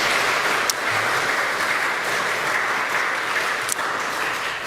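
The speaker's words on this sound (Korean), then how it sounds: "우리 귀한 말씀 들려주신 선교사님을 위해서 우리 감사의 또 박수 한번 보내드리면 좋겠습니다" A church congregation applauds a visiting missionary after his sermon, steady warm clapping from many people throughout, with a couple of sharp louder claps standing out and no talk.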